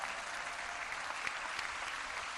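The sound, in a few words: applause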